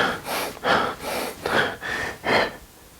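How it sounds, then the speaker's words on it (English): A person breathes fast in a demonstration, about five quick, loud breaths in an even rhythm, each a harsh airy rush, close to the microphone with no talk. "So you start to breathe."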